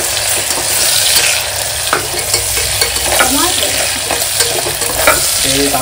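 Tomatoes fry in a pan as a spatula stirs them, a loud, close sizzle with repeated scraping and clacking strokes throughout, and no speech.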